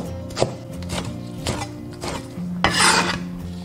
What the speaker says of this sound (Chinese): 蒜苗斜刀切断